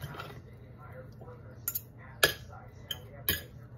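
A utensil stirring ahi tuna ceviche (kinilaw) in a bowl, giving soft scraping and a few sharp clinks against the dish at irregular moments, close by.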